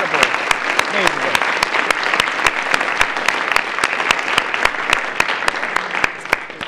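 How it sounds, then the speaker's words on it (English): A round of applause for presented projects at a Big Data exploration event, a closing session: sharp, distinct hand claps over a continuous wash of audience clapping, steady and loud throughout. "can we just give another round of applause for all the projects?"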